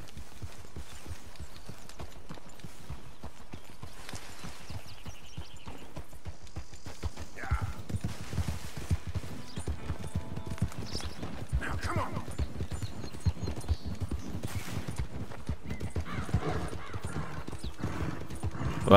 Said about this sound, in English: Wow, this horse is pretty fast.